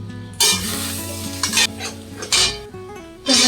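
Egg frying in a pan with a little salt and black pepper, a soft sizzle broken by several loud scraping bursts from a utensil against the pan.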